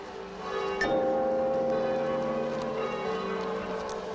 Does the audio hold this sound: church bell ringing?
yes